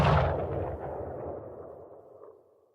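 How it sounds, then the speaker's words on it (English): A loud cannon blast opens abruptly, then rumbles and decays over almost three seconds, a single heavy boom with a long fading tail and no voices. "you hear like cannon fire"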